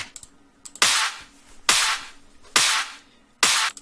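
Layered trance percussion samples hit four times in an even rhythm, each a sharp, bright, noisy crack with a short decay, loud and close, with faint ticks between them.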